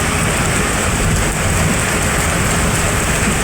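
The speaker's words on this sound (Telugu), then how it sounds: "ఉరుములు మెరుపులతో కూడిన వర్షం ఫ్రెండ్స్." Rain pours down loudly and continuously during a thunderstorm in Bengaluru, a dense close roar of water with a low rumble beneath and no voices.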